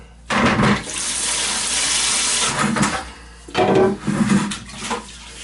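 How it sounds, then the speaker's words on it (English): Antifreeze pours and splashes steadily into a toilet for several seconds, with a brief pause and a second gush near the end. "And we'll add the antifreeze to it."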